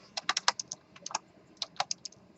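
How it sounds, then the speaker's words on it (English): Someone types on a computer keyboard, a quick run of close, crisp key clicks, then a short pause and another burst of taps. "so that I can just keep typing comments"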